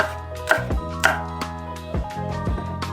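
A knife chops onion on a cutting board, several crisp, uneven thuds over three seconds, close and clear with no talk.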